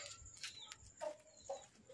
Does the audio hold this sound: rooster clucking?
yes